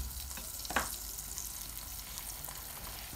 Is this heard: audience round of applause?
no